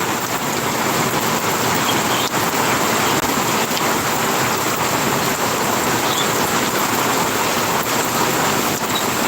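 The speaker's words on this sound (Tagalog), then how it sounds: "Sobrang lakas ng ating ulan ngayon." Torrential typhoon rain roars without a break over flooded streets, a loud, unbroken wash of sound with a faint low rumble beneath and no talking.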